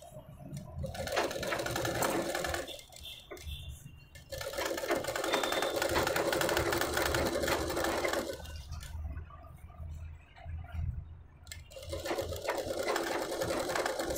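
A sewing machine stitching piping along the edge of a lined blouse, rapid whirring runs of stitching broken by short pauses as the fabric is repositioned, close and alone.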